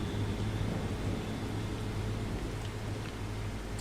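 Steady rain hisses in Farming Simulator 25 on a Montana farm map in spring, a dense, even wash of falling water with no break and nobody speaking.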